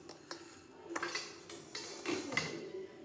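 A knife cuts cooled colocasia rolls (alu vadi) into pieces, making a series of soft, irregular thuds and clicks on a board, fairly faint and close.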